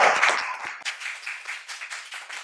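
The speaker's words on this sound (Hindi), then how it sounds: "तालियां" Scattered clapping greets the new defence minister in a Haryanvi village film scene, a few hands beating in a loose, uneven rhythm that starts loud and thins out.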